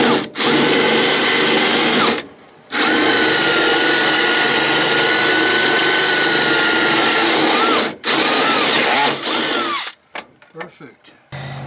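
A loud power drill whines continuously while drilling a hole for a transom knee brace on a 16-foot Starcraft boat, pausing briefly twice, then ends in a few short stuttering bursts.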